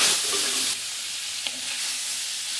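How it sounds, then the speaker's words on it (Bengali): Fish coated in salt and turmeric frying in hot mustard oil, a loud bright continuous sizzle up close that eases slightly partway through, with one brief tap, no voices. "তেল গরম হয়ে গেছে, দিয়ে দেবো মাছ।"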